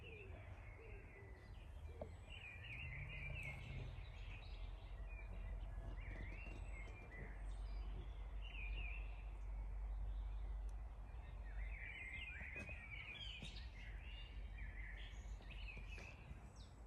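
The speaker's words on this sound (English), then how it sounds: "hearing the birds sing is probably more interesting than hearing me talk" Birds sing and chirp throughout a bonsai garden in late spring, with repeated bright twittering phrases and soft cooing over a low, steady outdoor rumble, moderately distant and fairly faint.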